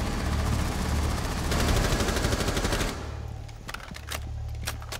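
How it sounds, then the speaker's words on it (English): Gunfire in Rainbow Six Siege, in a team deathmatch bomb round on Hereford Base during the beta: loud, sustained automatic bursts for a few seconds, then scattered sharper single shots at a slightly lower level. "I figured if I just kept shooting at him"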